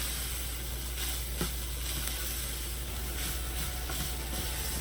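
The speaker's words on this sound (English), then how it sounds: "I'm going to let those seasonings hit the heat, let those flavors come out." Seasonings and salt sizzle in a hot pan for spaghetti sauce, giving a steady close crackling hiss over a low constant hum, with a few faint clicks.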